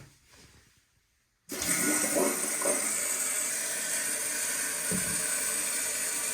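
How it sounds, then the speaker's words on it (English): A toilet flush bursts in after a quiet opening and continues as a loud, steady rush of water, close and sustained for several seconds with no talk. "So it flushes."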